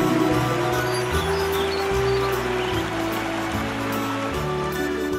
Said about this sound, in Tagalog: Nakakita ako ng tulay at tumawid ako ng ilog. Rinig mo ba ang lagaslas nito?